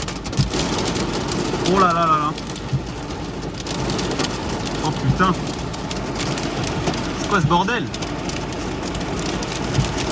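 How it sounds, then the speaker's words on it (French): A severe thunderstorm in Indre-et-Loire, France: heavy rain and hail pour down in a dense roar with gusts, while a man exclaims loudly several times in French over the din. "Oh, la grêle."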